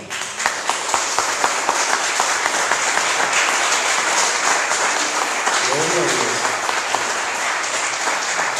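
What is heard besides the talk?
church congregation applause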